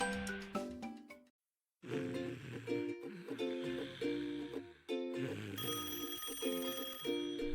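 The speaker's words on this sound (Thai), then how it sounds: "มีโทรศัพท์แน่" A cartoon telephone rings in bright repeated electronic trills, broken by a brief silent gap, then ringing again loudly with musical tones around it.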